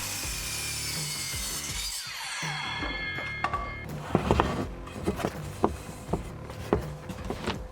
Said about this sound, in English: From here I can set my miter saw at the correct angle so all my cuts are consistent.